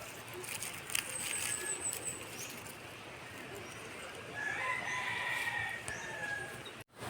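Rural farmyard with chickens and a rooster: a crow rises near the middle and later, alongside scattered clucks over a steady outdoor background, moderately close.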